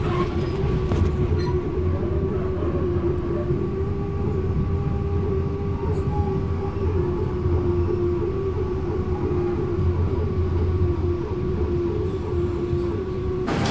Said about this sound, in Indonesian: kereta api Pasundan diberangkatkan dari stasiun